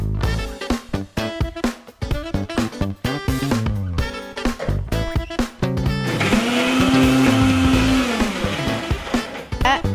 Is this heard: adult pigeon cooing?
no